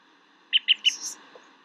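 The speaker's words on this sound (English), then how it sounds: "Birds." Birds in the video game Reflections give three quick bright chirps in a row, followed by a softer trailing tweet against a faint, quiet ambient background.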